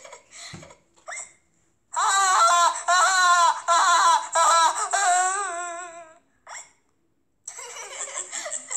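Cartoon pig character from a Peppa Pig parody hiccuping in a high, squeaky voice, a few short gulps followed by longer wailing, crying-like vocal stretches, close and loud.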